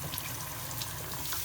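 Tap water runs steadily into a toy whale car wash playset for a refill, a continuous close hiss and splash with no talking over it.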